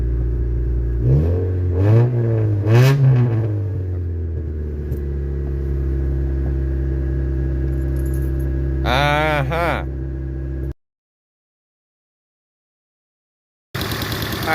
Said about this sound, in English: it's got that misfire I was looking for